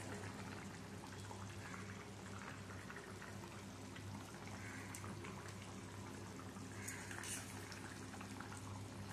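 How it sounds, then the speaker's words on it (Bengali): Fish curry gravy for a light rohu, potato and pointed gourd jhol boils in a pot, a steady close bubbling and simmering hiss that runs continuously and evenly throughout. "ঝোলটা ফুটতে শুরু করেছে"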